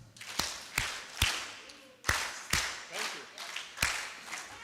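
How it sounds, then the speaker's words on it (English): Audience at an HIV service delivery summit session giving presenters a rhythmic group clap, sharp unified claps in short bursts of three, separated by brief pauses with light murmuring between. "Can we please prepare and we give a good 3 factorial clap for our presenters?"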